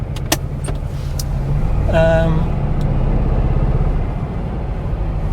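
A Porsche 912 engine runs with a steady low rumble, joined by a few sharp clicks and a short whirring whine partway through.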